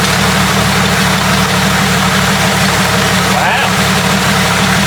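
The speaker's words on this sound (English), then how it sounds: "I'm sitting here running the motor." Ford 4.0 engine idling steadily close by, a constant low rumble and hum throughout, with a brief spoken exclamation over it.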